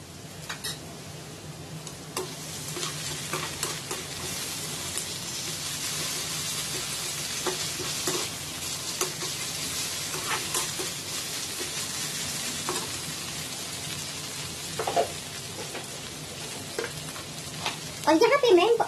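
Onions frying with ginger garlic paste for panchmel dal tadka, a steady close sizzle with repeated spoon scrapes against the pan, growing louder and busier near the end.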